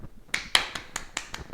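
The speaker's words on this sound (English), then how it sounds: "you're going to do some claps in the middle" Sharp hand claps ring out in a quick run of about six, spaced evenly, during a tennis ball throw-and-catch drill at home, close and fairly loud with no talking.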